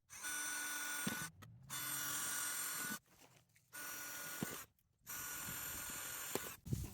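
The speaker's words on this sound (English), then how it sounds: "Then I take my drill with a drill bit and I just drill my pilot holes." A power drill with a drill bit whirs in a few bursts of about a second or so each, drilling pilot holes, with short pauses between them, close by.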